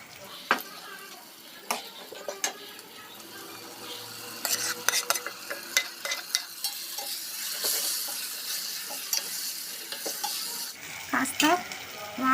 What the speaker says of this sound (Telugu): ఇప్పుడు మనం గోంగూర కూడా యాడ్ చేసేసుకుందాం